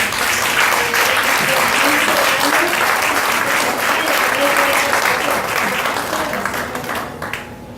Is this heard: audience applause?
yes